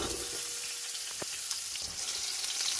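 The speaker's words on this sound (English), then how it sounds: "it's been frying for about 2 or 3 minutes. So now we'll add in 2 sliced onions." Steady sizzling of sliced onions frying in a hot pan for a crab curry, a continuous crackling hiss with a few brief stirring clinks, no voices.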